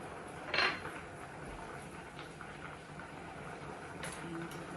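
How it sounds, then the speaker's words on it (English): Pasta in avocado sauce being stirred in a kitchen pot, with a sharp metallic clink of utensil on cookware near the start and a few faint scrapes and knocks against a steady low background. "give this another stir, because we don't want our pasta to cook into one solid lump"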